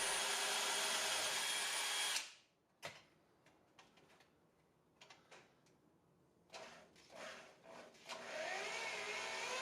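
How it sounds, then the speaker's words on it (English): Drill bit boring and tapping a hole into metal underneath a vehicle to mount an actuator bracket, with a steady loud drone that cuts off, then short bursts and scrapes in a quieter stretch before the whine returns. "I'm drilling and tapping the hole for the actuator bracket connection."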